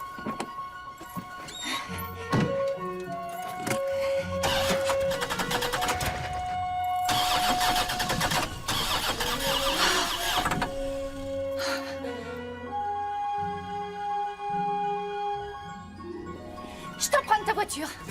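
A car engine cranks and turns over, then idles with a steady hum beneath people talking, the motor swelling midway before settling and a few sharp knocks near the end.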